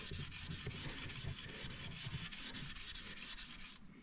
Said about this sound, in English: Let's take that steel wool and see.